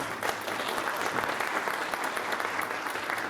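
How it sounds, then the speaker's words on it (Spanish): An audience claps for Dr. Sara at a panel discussion, a continuous even wash of applause from a room full of people that stays level throughout, moderately loud. "Un aplauso por favor para la doctora Sara."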